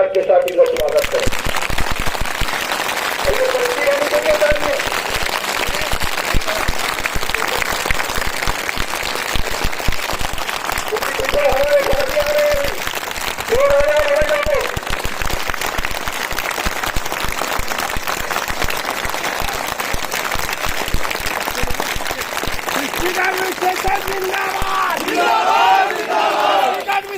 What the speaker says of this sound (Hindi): तालियों की कड़कड़ाहट के साथ इनका स्वागत करें